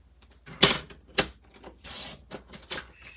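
Whisper White cardstock being cut for a teepee card, giving a few sharp close snips and slicing strokes with short pauses between them, no talking.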